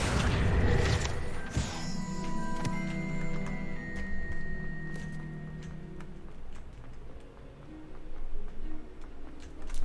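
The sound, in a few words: Confringo blasting spell from the video game Hogwarts Legacy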